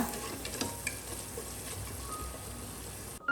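A tomato masala with pepper powder and biryani masala is stirred in a hot pan, a close, continuous soft sizzle with spatula scrapes and shuffles, ending in a brief cut.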